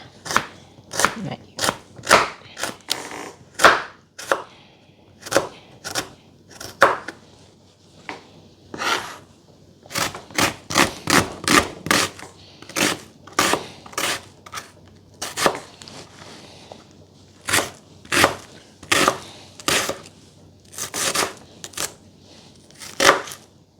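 Garlic and half an onion chopped finely with a knife on a board for a mango salad, a long run of crisp, close taps in quick irregular bursts with short pauses between.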